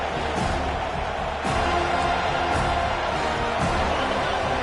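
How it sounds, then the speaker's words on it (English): Stadium crowd in a College Football 25 game swelling on third down, a dense continuous roar of cheering that rises slightly partway through, loud and steady throughout. "Decibels rising as the crowd gets behind this defense on 3rd down."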